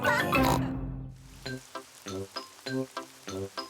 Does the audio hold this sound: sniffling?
no